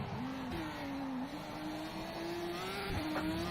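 A GP3 open-wheel race car in rFactor 2 drives through a lap at Adelaide, its engine holding a steady high whine with small pitch dips as it brakes, continuous and close.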